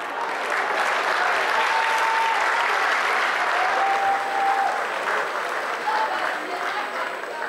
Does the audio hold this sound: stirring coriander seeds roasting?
no